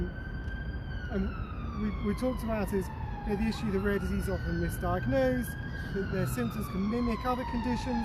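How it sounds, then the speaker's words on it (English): An emergency vehicle siren passes outside during an indoor event, its rising and falling wail clearly audible under a person speaking throughout. "sorry about the siren"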